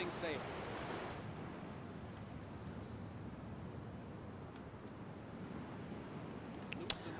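Open-sea waves and wind around a ship setting sail in the strategy game Humankind, a steady low wash of surf across the whole stretch, with a brief brighter splash near the start and a sharp tick near the end.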